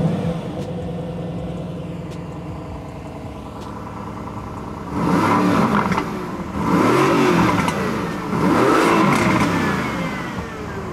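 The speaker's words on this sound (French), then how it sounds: "Démarrage, quel son ça fait? Ça fait le son clairement d'une américaine." A Mercedes-AMG GT V8 engine idles with a low rumble, then bursts into three loud, throaty revs in quick succession, each swelling and falling back, heard up close with no talking.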